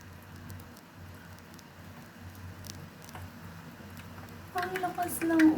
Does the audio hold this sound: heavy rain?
yes